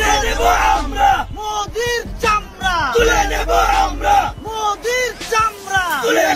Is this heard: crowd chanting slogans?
yes